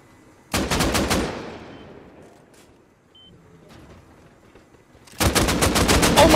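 Two loud bursts of rapid M2 machine gun fire in the game Rust, one at the start and one near the end, separated by a quieter stretch of faint background noise.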